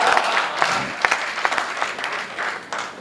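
Audience applause at a Hindi stage poetry and comedy show: steady, fairly loud clapping with a few sharp, distinct claps standing out, continuing for about three seconds with no talking.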